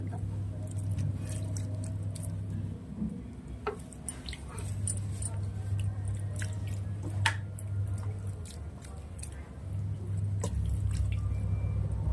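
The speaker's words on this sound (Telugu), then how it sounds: "లైట్ గా వాటరింగ్ చేయాలా" Water trickles and drips lightly onto soil as spinach plants are watered in a backyard, with scattered small splashes over a steady low hum, fairly quiet and continuous throughout.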